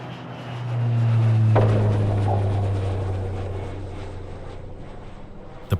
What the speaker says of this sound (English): The plane touches down in Portland, Maine